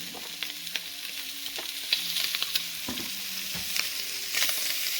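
Peppers, onions, celery and green onion frying in a pan for jambalaya, a steady sizzle broken by repeated spoon scrapes and stirring knocks, close up with no voices.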